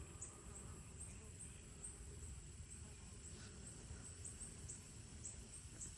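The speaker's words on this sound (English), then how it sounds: "I'm going to check the bees" Steady low droning buzz of many honeybees swarming around a hive during a mite treatment check, continuous and close throughout.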